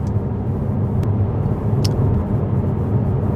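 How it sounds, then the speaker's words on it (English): A steady low engine drone from a Jaguar XK (X150) on the move, constant and fairly loud, with a couple of faint brief high ticks. "You don't want a droning noise on a car like this"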